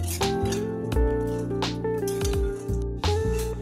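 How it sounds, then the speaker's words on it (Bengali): Peanuts stirred and dry-roasted in a wok, with repeated metallic clinks and scraping as the nuts are turned, steady and close over a continuous background hum. "শুকনো কড়ায় বাদামগুলোকে নাড়াচাড়া করে ভেজে নিচ্ছিলাম"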